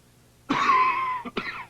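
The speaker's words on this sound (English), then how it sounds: "My baby's got a nasty cough and a stuffed up nose" A baby's single harsh, drawn-out cough followed by two short rasping coughs, close and clear with nothing else around it.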